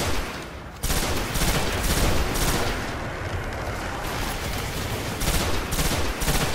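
Pulse rifle fire in the Destiny video game bursts out in dense, rapid volleys of shots that continue almost without a break, loud and close, with brief dips between bursts.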